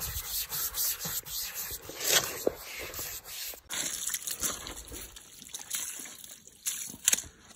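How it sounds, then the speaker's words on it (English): A scrub brush works over soaked white wall tires on a 1956 Imperial, giving close, uneven wet rubbing and sloshing strokes that come and go over several seconds. "give it a good little soak, a nice little scrub brush here to pull that stuff off of there"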